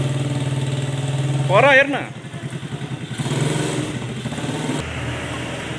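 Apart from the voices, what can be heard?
desert bike ridden by the speaker's daughter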